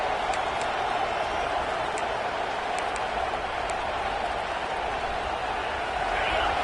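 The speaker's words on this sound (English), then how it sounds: "The roar of the crowd trying to fuel this defense to keep them pinned in their own end." A stadium crowd at an American football game roars steadily and loudly throughout, a dense wash of distant cheering with faint scattered claps.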